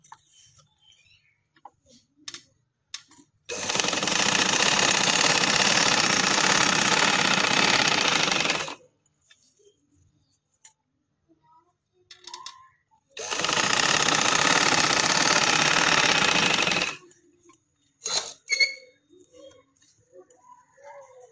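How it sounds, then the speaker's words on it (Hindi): A sewing machine stitches invisible lace onto a garment slit in two sustained bursts of several seconds each, a close, loud, even motor hum and needle chatter separated by quiet handling clicks. "इसी तरह मैं सिलाई लगा के फिर दूसरी सिलाई भी लगा लूंगी"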